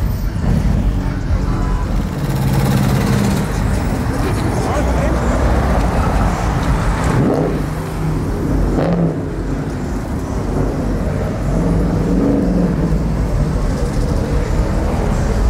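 Cars driving fast along a Houston street, a loud continuous roar of passing traffic with engine swells that rise and fade, and voices talking over it.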